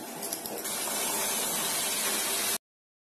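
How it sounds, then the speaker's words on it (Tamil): Milk for filter coffee rolling at a boil in a pot, a steady close hiss and frothy bubbling that runs unbroken for about two and a half seconds, then cuts off. "பால் கொதிச்சிருச்சு."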